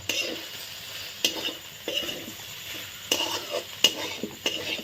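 Spatula stirring chilli egg bhurji in a pan, a run of scraping strokes every second or so over a low sizzle, close and clear with no talking.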